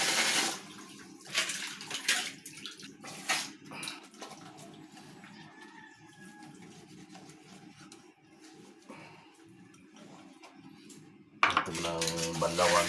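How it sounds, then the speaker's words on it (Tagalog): Dishes and utensils being washed under running water in a kitchen sink, with a steady tap flow, clinks of pots and cutlery, and a louder rinse burst near the end; a person speaks briefly during it. "Hugasan muna natin ito."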